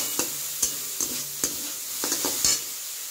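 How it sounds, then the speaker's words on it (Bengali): A spoon scrapes and stirs spices into a sizzling mixture in a pan, with about seven sharp, evenly spaced strokes over a steady frying hiss and no voices. "মশলাটা একটু মিশিয়ে নেব"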